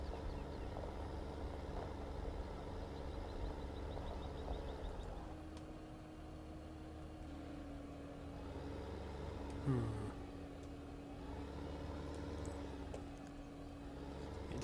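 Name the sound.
tractor ploughing in Farming Simulator 15 video game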